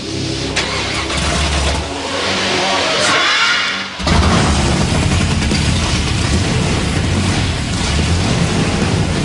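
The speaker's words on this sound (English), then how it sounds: "to hear that big block fire up" A big-block car engine cranks, then catches and roars to life, settling into a loud, rumbling idle up close.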